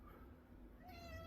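A noisy, whiny pet cat named Winky meows close by, a drawn-out rising cry over low room rumble, with no talking.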